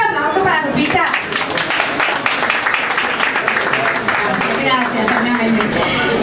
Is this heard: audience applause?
yes